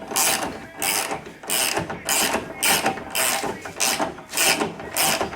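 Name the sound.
ratchet wrench on an RS1 ATV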